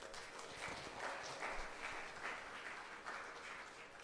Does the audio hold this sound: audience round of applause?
yes